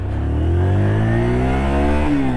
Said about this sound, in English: let's just demonstrate pulling away from a junction